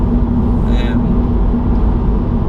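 Mini F56 hatchback fitted with new lowering springs driving on an undulating road, a continuous low engine and road rumble from inside the cabin that stays steady throughout.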